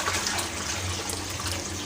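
Water runs steadily from a tap over fennel and carom seeds being rinsed at home, a continuous close splashing wash with no talk.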